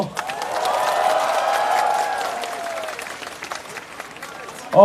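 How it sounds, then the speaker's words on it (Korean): Outdoor political rally crowd in cold weather breaking into sustained applause, mixed with cheering voices that swell for a few seconds and then taper off, with a louder burst at the very end. "이 추운 날씨에도 가지도 않고 이렇게 자리를 지켜주시는 자신을 위해서 박수 한번 쳐주세요"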